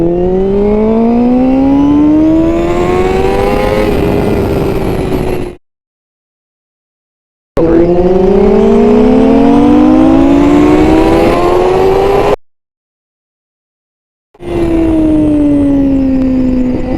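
A 2021 Honda CBR1000RR-R Fireblade SP with a BT Moto ECU flash, loud and close, accelerating hard through the gears, each rising engine wail broken by brief silent gaps at the shifts, three pulls in all.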